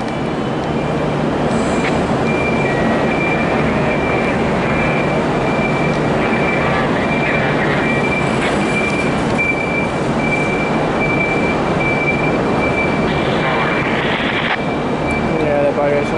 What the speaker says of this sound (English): My favourite locomotive on this train.